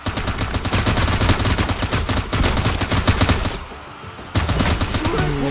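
Rapid bursts of automatic gunfire in the shooter game Frag, dense rattling shots with a brief pause before firing resumes, loud and close over faint game sounds.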